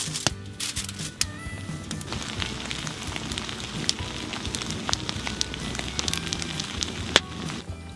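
A campfire crackles under a foil-covered baking dish set on a fire grill during a hike in Hossa National Park, with steady dense crackling and sharp pops across the whole clip and no talk.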